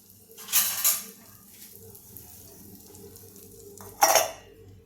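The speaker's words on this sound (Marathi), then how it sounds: "याच्यावर आता मी झाकण ठेवते" A lid set on a cooking pot in a home kitchen gives two short metallic clinks, the first just after the start and the second near the end, with quiet background between them.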